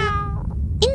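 A cat meows twice in quick succession in a cartoon scene, each a short, close, tonal cry rising and falling in pitch over a rumbling background.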